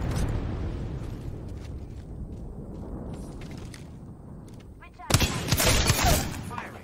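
Video game gunfire, with a few sharp distant shots over a dull rumble, then a loud close burst of rapid fire near the end.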